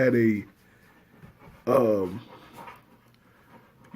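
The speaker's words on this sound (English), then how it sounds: "again, that's my dog." A pet dog pants and whimpers close by in two short bursts, with quiet gaps between them.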